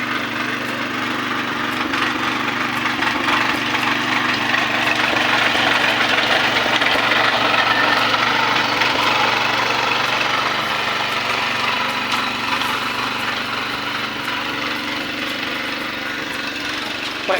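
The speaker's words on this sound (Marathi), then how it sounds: "ट्रॅक्टर जवळ आला आहे, आवाज येणार नाही माझा" A small tractor engine runs close by on a farm, a continuous loud rumbling drone with a slight knocking vibration that holds steady throughout, with no voices over it.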